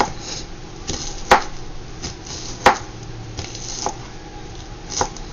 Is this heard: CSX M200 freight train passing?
no